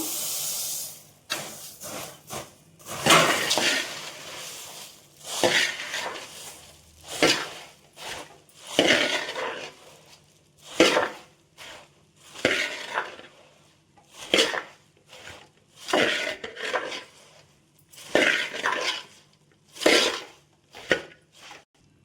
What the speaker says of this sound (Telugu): స్టవ్ ఆఫ్ చేసుకొని మనం జల్లించి పెట్టుకున్న బొరుగుల్ని యాడ్ చేయాలి పాకంలో.